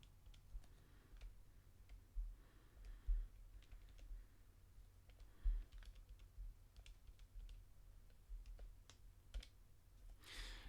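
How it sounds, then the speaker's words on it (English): Numbers are tapped into a calculator as a scattering of faint, quick key clicks at an irregular rhythm over a quiet, low hum, with no one speaking. "I'll type that into my calculator."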